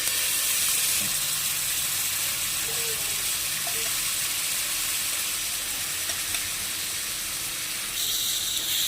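Egg frying and sizzling in a pan as chicken gravy is stirred in for leftover chicken gravy noodles, a continuous loud hiss with faint scraping and a short burst of steam near the end.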